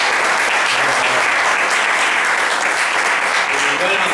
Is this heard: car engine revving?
no